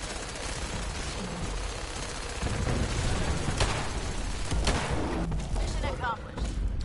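Gunfire in Fallout 4, a dense continuous barrage of shots and rattling bursts throughout, loud and near, with a voice talking over it.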